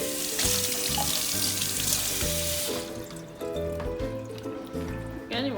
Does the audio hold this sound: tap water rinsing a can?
yes